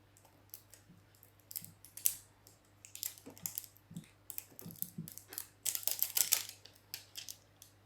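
Protective plastic wrap being peeled off a new Ilife V7 robot vacuum, giving a run of close, quiet crinkles and sharp crackly tearing bursts, with a steady low hum underneath.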